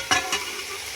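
Sauerkraut being stirred and fried in a pan with onion and carrot: two quick close scraping stirs over a steady soft sizzle, with no talking.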